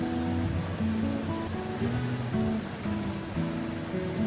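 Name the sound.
pouring tamarind water into cooked dal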